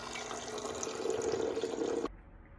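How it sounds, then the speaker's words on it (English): Water from a tap runs steadily into a water bottle being refilled, a continuous close splashing stream that stops abruptly near the end. "It's already time to refill my water."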